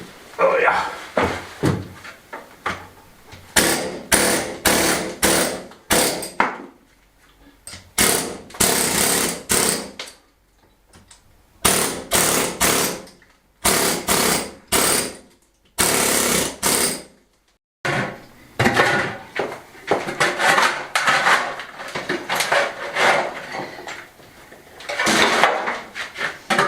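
A hammer chips at a cave entrance inside a kitchen, with loud, close, irregular bursts of sharp knocks and scraping broken by short pauses, while people talk in between.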